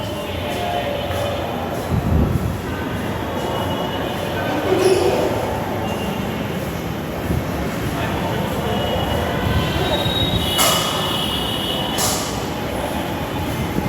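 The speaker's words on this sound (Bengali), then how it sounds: "এটা হচ্ছে আগারগাঁও মেট্রো রেল স্টেশন।" Rumble and rolling noise from a metro train at Agargaon metro rail station, heard close and continuous, with a brief squeal and a few louder swells as the train moves through the station.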